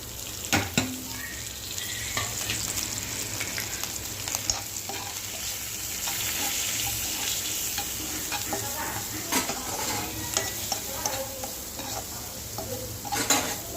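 Vegetables and fennel seeds fry in hot oil in a pan, giving a steady, close sizzle with frequent stirring scrapes and occasional utensil clicks throughout, with no talking.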